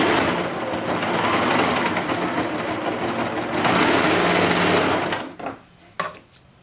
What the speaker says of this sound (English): Let's sew the rest of them and let's see if it looks good as well for the rest of the pants